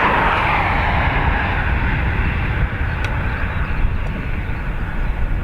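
A fixed-wing aircraft takes off from runway 28 right at Dublin Airport, its engines producing a loud, steady broadband roar that fades slightly toward the end.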